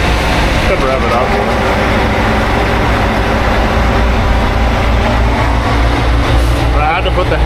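JR rail track tamper machine engine roaring loudly and continuously at close range, a heavy diesel drone with clanking mechanical noise throughout.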